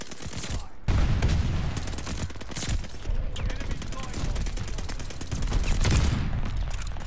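MP40 submachine gun in Call of Duty: Vanguard firing in rapid sustained bursts, loud and close, with brief pauses between strings of shots.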